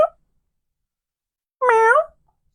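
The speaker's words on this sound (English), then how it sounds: "Am I going to be joined by a kitty?" A single clear cat meow, close and fairly loud, rising and falling over about half a second in an otherwise quiet room.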